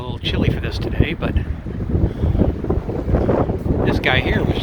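Strong wind, around 30 mph, howls and buffets across a chilly Alaskan waterside spot near fishermen, a steady rough roar with gusting texture throughout.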